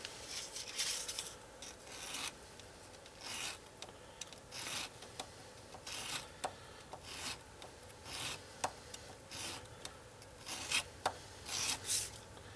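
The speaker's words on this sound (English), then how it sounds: "So not too much sanding, but you definitely want to have that available." Sandpaper rubbed against a small part of an IQSY Tomahawk model to make it fit, heard as close, quiet rasping strokes in short irregular bursts with pauses between.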